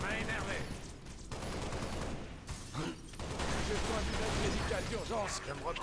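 Weapon fire in the video game Halo Reach rattles in dense, continuous bursts. Someone talks over the shooting throughout.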